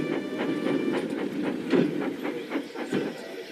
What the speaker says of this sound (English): One morning, Percy brought the first train to the station.